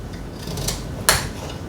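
A knife halves a thick carrot on a cutting board before boiling, leaving one clear chop against low background noise with a softer tap just before it.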